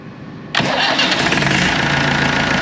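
Massey Ferguson 165 tractor engine starting: a quiet lead-in, then the engine catches suddenly and settles into a loud, steady, close idle.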